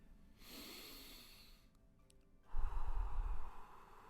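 Two slow, deliberate breaths: a long airy inhale lasting about a second, a short pause, then a fuller, breathier exhale close to the microphone.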